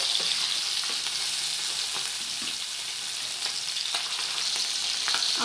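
Hot oil sizzles continuously around a fish head being fried, a close, even hiss broken by occasional soft pops and light stirring scrapes, with no talking.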